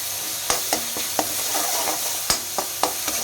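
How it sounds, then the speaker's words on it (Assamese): Onions frying in oil in a wok, a steady close sizzle broken by sharp clacks of a utensil stirring and scraping the pan, with no talking. "এতিয়া সেই একেটা কেৰাহীতে মই প্ৰথমতে পিঁয়াজ দি দিম তেলত।"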